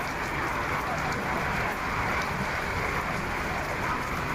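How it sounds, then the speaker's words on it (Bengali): Heavy rain pours down in Dhaka in a constant, dense roar, loud and unbroken throughout. "অনেক জোরে বৃষ্টি হচ্ছে।"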